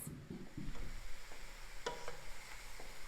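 Ingredients for a creamy coconut chicken curry toast and sizzle in a pan, with soft stirring scrapes and a few light clicks of a utensil against the pan, close and steady throughout.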